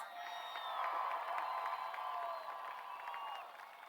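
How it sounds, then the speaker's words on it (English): Distant crowd applause and scattered cheers fill a large space, steady throughout with a few faint whoops. "Let's give them a big round of applause."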